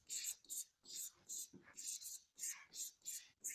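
Chalk or marker writing on a board, a string of short rhythmic scratching strokes in quick bursts, close and faint, with no voice over it.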